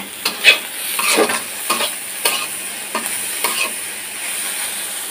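Food stirred and fried in a pan, with repeated scraping strokes of a spoon against the pan over a steady background sizzle, close and fairly loud, no talking.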